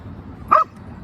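A single dog bark at an outdoor dog park, one short burst in the middle of the clip, fairly close and standing out over low background ambience.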